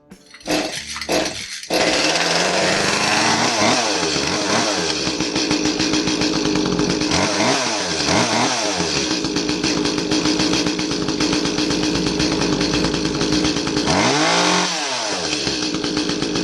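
An Echo CS352 chainsaw, repaired after bogging and losing power, starts with a few pulls, then runs loud and close at a high steady whine, with several throttle dips and revs along the way.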